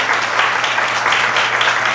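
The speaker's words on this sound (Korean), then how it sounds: "박수 한번 주세요" A church congregation at a lay ministry session breaks into steady applause, a close, full and unbroken patter of many hands for the whole moment.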